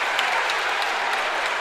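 Spectators at a 5,000m track race cheer and clap in a continuous, loud wash of crowd noise, steady for the whole moment with no distinct voices standing out.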